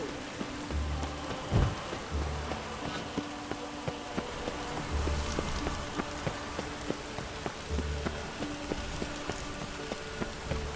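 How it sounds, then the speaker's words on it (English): Steady video game rain in The Witcher 3: Blood and Wine patters on a surface, with scattered sharp droplet ticks and a low rumble of distant thunder in the background. "Ah, let it rain."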